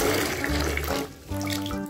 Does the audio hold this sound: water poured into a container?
yes